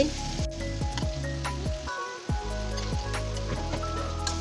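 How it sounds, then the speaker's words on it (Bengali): Bottle gourd greens and beans fry in a pan with a continuous close sizzle, punctuated by regular scraping strokes of a spatula and a brief lull midway. "লাউ শাক শিম আর লাউ শাকই ভেজে নিব আজকে"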